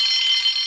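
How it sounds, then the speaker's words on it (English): A loud, steady, high-pitched alarm rings alone for under a second, calling out a railway breakdown train. "Soon came the alarm."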